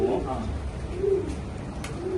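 Pigeons cooing in a loft in Shivaji Nagar, Bangalore, with repeated low soft coos, close and fairly loud, over a murmur of background noise.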